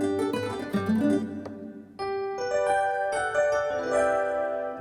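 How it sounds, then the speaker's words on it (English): A Yamaha PSR-SX920 arranger keyboard plays its guitar voice over a 90s 8-beat ballad style, strummed chords ringing out then sustained tones, moderately loud and close, with no voices. "a nice guitar sound."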